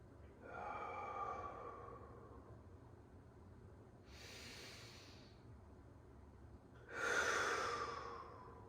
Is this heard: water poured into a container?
no